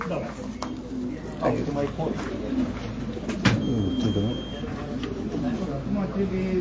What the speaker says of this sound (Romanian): Al doilea porumbel.